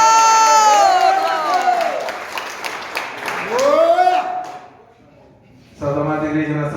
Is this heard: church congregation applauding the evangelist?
yes